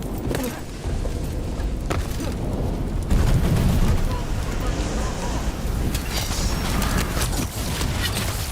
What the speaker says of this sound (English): Cannon fire! Get clear!